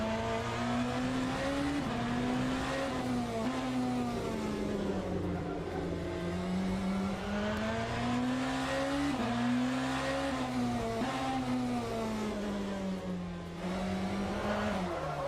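BMW hypercar in the Le Mans Ultimate racing game, understeering through a corner at Fuji Speedway: a loud, steady engine drone whose pitch rises and dips through the turns, with faint tire scrub underneath.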